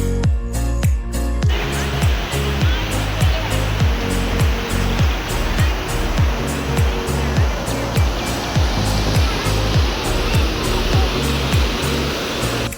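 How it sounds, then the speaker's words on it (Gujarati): A river swollen by heavy rain has flooded nearby fields and a village temple. It roars as a loud, continuous wash of rushing water, steady and close throughout. "કેટલું બધું આપણે નદીમાં પાણી આવી ગયું છે"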